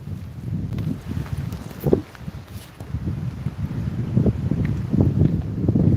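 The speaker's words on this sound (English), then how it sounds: "a bit of wind coming in there, isn't there?" Wind blowing at a lake in Gothenburg, Sweden, a steady low rumble buffeting the microphone that rises and falls in gusts for the whole stretch, with faint rustling and footsteps underneath.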